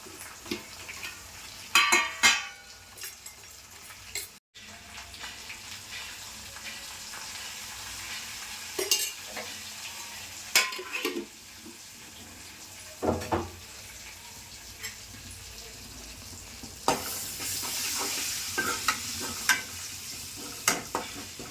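Tempering (popu) for tomato dal frying and sizzling in a pan, a steady crackle with bursts of spattering and stirring scrapes over the span, fairly close and moderately loud, no talking.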